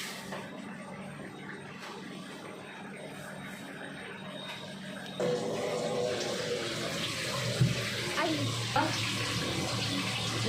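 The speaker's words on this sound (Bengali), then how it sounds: "আমি চালটা নিয়ে ধুয়ে নেব।" Gobindobhog rice grains washed in water, first a soft trickle and then a louder running splash with a few knocks, close by, under some talk.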